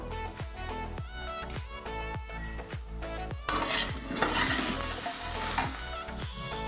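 Eggplant and potato fry with salt, turmeric and cumin powder in a pan for a pomfret fish dish, with a repeated rhythmic scraping of a spatula over a soft sizzle that grows louder in the second half.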